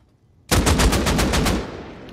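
Rapid automatic gunfire in the video game Rust, played on PS5 console, bursting in suddenly after a brief quiet and hammering out a loud, evenly spaced string of about eight or nine shots before tapering off.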